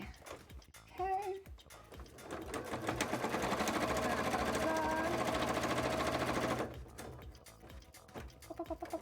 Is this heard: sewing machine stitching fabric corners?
yes